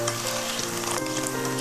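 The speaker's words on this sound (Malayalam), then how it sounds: "നമ്മുടെ മുട്ട ബാറ്ററിൽ മുക്കി വറുത്തത് എണ്ണയിൽ നിന്ന് മാറ്റാൻ സമയമാവുന്നു" Batter-coated egg fritters frying in oil for Chinese egg chilli give a loud, close, continuous crackling sizzle, with faint scraping and stirring underneath.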